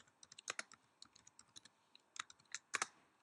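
Quick, light clicks of a computer keyboard as a formula is typed, irregular bursts of close keystrokes with short pauses, alone and quiet.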